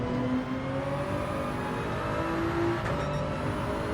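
A Toyota Gr.3 race car in Gran Turismo, lapping the Nürburgring, gives a steady loud engine drone that climbs in pitch as it accelerates, with a brief gear shift partway through and no voices.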